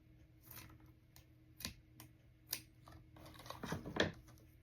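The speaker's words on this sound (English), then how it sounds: "And then I'm just going to cut it off." Scissors snipping through ribbon loops on a Dollar Tree gift box Christmas tag, a few sharp close crisp cuts spaced apart, then a quicker cluster of snips near the end, quiet and alone.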